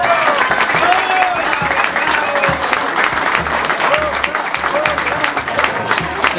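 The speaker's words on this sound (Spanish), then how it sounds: "Les quiero pedir otra vez un fuerte aplauso para Javier" Steady, strong applause from an audience for Javier Cevallos, dense clapping with some crowd voices, sustained and fairly loud throughout.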